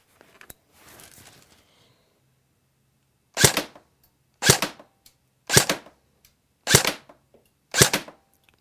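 An H&K KWA G36C airsoft rifle fired at a target 30 feet away gives five sharp, loud single shots about a second apart, after a soft rustle of handling at the start.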